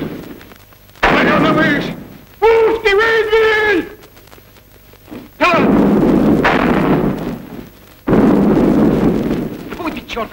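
Cannons firing in a battle scene from a 1939 war film, with several heavy booming blasts spaced a few seconds apart and loud shouting voices between them.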